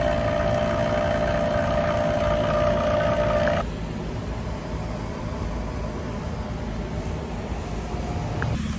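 A vacuum pump pulling vacuum on a Carrier air conditioning unit with a new Copeland compressor gives a steady mechanical hum and whine, dropping to a lower, duller drone partway through and continuing evenly to the end.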